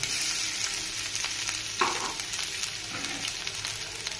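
Onion and garlic frying in oil with dried chili, cumin and chopped ginger: a steady, close sizzle with occasional stirring scrapes and one sharper clink.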